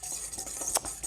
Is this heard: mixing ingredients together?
yes